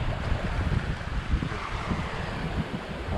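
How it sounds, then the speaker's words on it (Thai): Steady wash of surf and gusting wind at Kalon beach on the Thai coast, a continuous low rumble of breaking waves with wind buffeting the microphone, no voices. "นี่บรรยากาศรอบ ๆ ของ หาด ทะเลกะโลนครับ"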